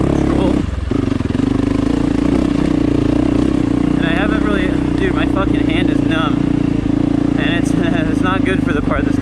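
Yamaha YZ450FX dirt bike engine droning loud and close while riding trails at Lake Arrowhead, a steady low rumble with wind buffeting and a rider talking over it throughout.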